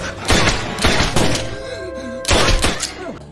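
Gunshots from a police officer firing a gun in an action film fight scene: sharp loud broadband bursts in two clusters, with an echoing, ringing tail between them.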